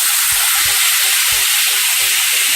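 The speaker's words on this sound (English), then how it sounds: "Make sure you stand back because it's going to sizzle up a lot." Half a cup of red wine hits hot bacon fat in a pan and sizzles hard, a loud, steady, hissing fry that fills the moment, with a few low thuds underneath and no talking.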